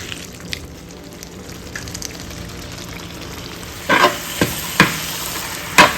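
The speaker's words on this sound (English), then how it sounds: "Stir continuously till beef is tender and the spices are cooked." Beef and spices fried in oil for a Kasaragod palli beef curry are stirred with a spoon, a steady low sizzle broken by several sharp scraping clatters in the last few seconds, close up with no talk.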